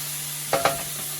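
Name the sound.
caramelizing baked fish ingredients in a pan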